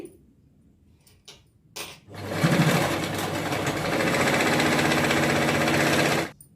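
A sewing machine stitches a puff sleeve seam, running steadily and loudly for about four seconds after a few soft handling knocks, then stopping.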